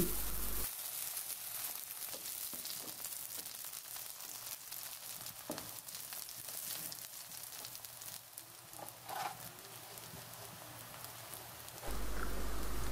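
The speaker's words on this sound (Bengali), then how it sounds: "পেঁয়াজগুলো কিছুক্ষণ নাড়াচাড়া করে ভেজে নিচ্ছি।" Chopped onions frying in oil and being stirred, a soft, steady sizzle with occasional scraping taps, fairly quiet and close, with no voices.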